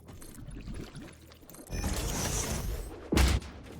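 A waterfall in the video game Satisfactory rushes with a broad, steady wash of water that rises partway through, with a brief heavy thump near the end.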